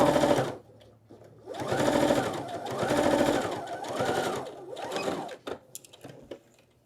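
A sewing machine set to stitch number 4 runs top stitching along fabric in several close, steady bursts of whirring, rhythmic needle strokes, with short pauses and light handling noise between runs.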